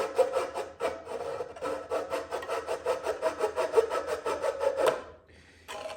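A hand saw cuts through a pine newel post in quick, rhythmic back-and-forth strokes, close and raspy, pausing briefly before a final short burst of sawing.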